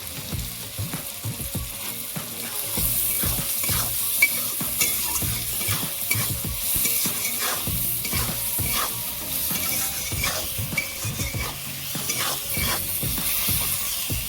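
Tomatoes with green chili and salt fry in a pan while being stirred, a steady sizzle broken by repeated scraping strokes of the spoon, close and continuous with no talking.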